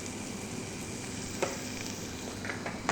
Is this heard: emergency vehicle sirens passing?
no